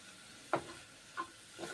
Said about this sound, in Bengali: তারপরে নেড়ে চেড়ে কুক করে নিচ্ছি।